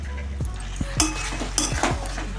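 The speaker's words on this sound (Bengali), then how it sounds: "ভালো করে নেড়ে নেব।" A spoon stirring potatoes into chicken curry in a pan, with a few scraping and clinking knocks against the metal over a low, continuous background hum.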